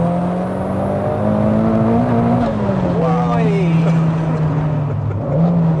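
A 510 bhp turbocharged, rear-wheel-drive Toyota MR2 with a 2.2-litre stroker engine pulls hard in second gear, its loud, droning engine note rising steadily and then dropping at a shift before climbing again.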